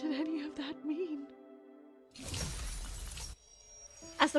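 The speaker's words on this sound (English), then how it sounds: "As the protocore cluster shatters, a distant tremor ripples through the air." A protocore cluster shatters in a video game with a sudden loud crashing burst of breaking, glassy debris lasting about a second, following a quiet stretch of soft musical tones.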